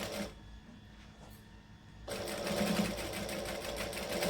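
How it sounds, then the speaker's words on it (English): A sewing machine stitches a camera bag at a moderate pace after a quiet pause, its motor whirring steadily with a rapid, even needle rhythm, loud and close. "You also notice that I'm not sewing too fast."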